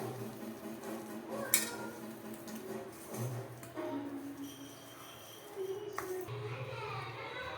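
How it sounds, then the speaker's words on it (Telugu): Chicken pieces being mixed with masala for chicken biryani, producing soft, steady clinks and scrapes in a bowl with a sharper knock partway through; no one talks. "నీట్గా శుభ్రంగా మంచిగా కలుపుకోండి మొత్తం ముక్కలకి అన్నీ పట్టేలా కలుపుకోవాలండి స్మూత్గా"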